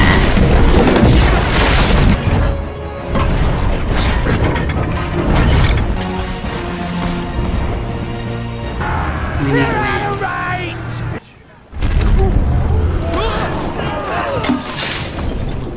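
Cannon fire from a scene in the 2006 pirate film Dead Man's Chest, with booming blasts, crashes and splintering impacts over music and shouted dialogue, then a brief drop to near silence before the action resumes.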